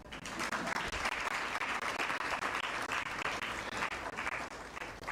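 An audience at a press conference for an entrepreneurship festival in Ghana breaks into steady, sustained applause, a dense even wash of clapping filling the room.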